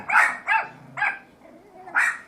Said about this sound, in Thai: ไอ้ฟูมันเห่าอะไรนักหนาวะ